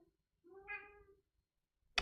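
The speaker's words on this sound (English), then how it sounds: "I heard the cat behind me also." A single clear cat meow, drawn out and slightly rising, close by in an otherwise quiet room, followed by a brief sharp click at the end.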